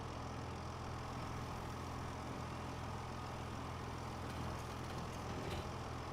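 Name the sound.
tractor engine starting and idling in Farming Simulator 25 video game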